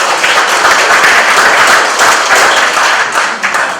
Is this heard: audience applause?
yes